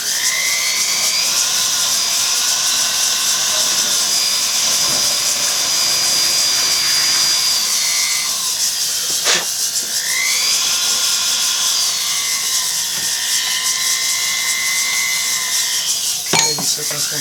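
A jeweler's rotary tool wheel whines in a high, steady tone during stone setting on a three-stone diamond engagement ring, with pitch dips and brief contact scrapes around the middle and the end.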